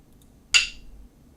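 A single sharp, bright clack from a Jingju (Peking opera) percussion pair, the ban wooden clapper struck together with the bangu drum, rings out once with a quick attack and short fading decay against near silence.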